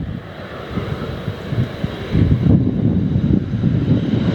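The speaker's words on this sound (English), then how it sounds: "Landing touchdown zone coverage here in Lihue." A Southwest airliner lands at Lihue airport in Hawaii, its jet engine roar growing louder and fuller midway, mixed with gusty wind noise on the microphone and no speech.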